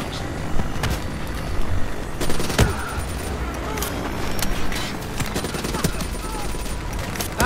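Dense video-game gunfire from Call of Duty: Black Ops III, with bursts and single shots in a loud, continuous firefight, booms and aircraft-like rumble underneath.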